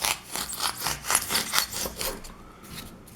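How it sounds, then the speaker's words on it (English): A serrated blade dragged along foam to carve a contour for a model coal load, giving a rough rasping scrape in quick back-and-forth strokes, close and steady, fading out at the end. "I take my serrated blade, I run the back end of the blade along this line."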